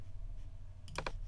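Two quick, crisp computer keyboard key presses, a shortcut tapped while editing a portrait in Adobe Photoshop CC, standing out close and clear over a faint steady hum.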